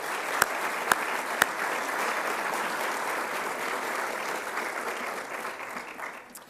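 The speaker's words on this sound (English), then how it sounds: "Let's give all of our sponsors a round of applause" Steady room-filling applause for sponsors at a policy luncheon, with a few sharp knocks early on, then even clapping that slowly thins toward the end.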